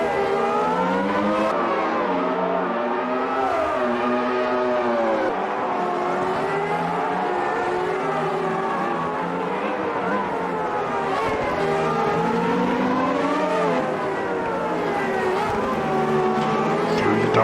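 Formula One cars roar through a race in the AMS Formula One video game, loud engine whines rising and falling steadily while a commentator talks over them.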